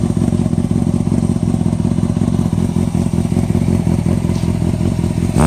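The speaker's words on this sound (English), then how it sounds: "I'm revving her because she's already warmed up" Kawasaki ZX6R with a Yoshimura slip-on exhaust, already warmed up, running steadily close by with a dense rumbling drone and light clatter, fairly loud and without much rise or fall; no one speaks.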